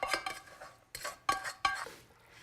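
Caramelized onions and cilantro being stirred into beans in a pot, heard as four or five quick scraping, clattering strokes of a utensil against cookware, close and clear with short pauses between.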